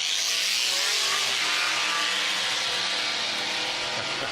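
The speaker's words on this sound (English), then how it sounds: "This is actually a hot-rodded 68 Dodge Coronet done up as a cop car, but with a Hellcat under the hood." A hot-rodded 1968 Dodge Coronet cop car with a Hellcat engine launches at a drag racing event, its loud roaring exhaust sustained and harsh, close and alone without talk.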